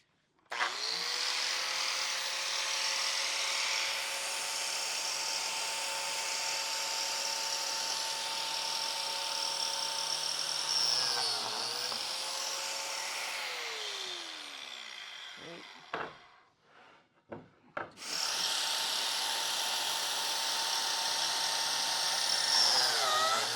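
A biscuit joiner cutting slots in wood window trim, a loud high motor whine that runs steadily, dips as the blade plunges, stops briefly with clunks, then spins up again.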